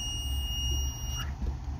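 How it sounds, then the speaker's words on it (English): A steady high-pitched multimeter continuity beep holds for about a second as a 1994 Honda Accord clutch pedal switch is pressed, then cuts off, leaving a quiet low hum. "So when I press the clutch pedal here, it should beep if the switch is good"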